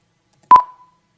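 A single short telephone keypad tone sounds during a credit card phone transaction, one crisp close beep that ends quickly, with silence before and after.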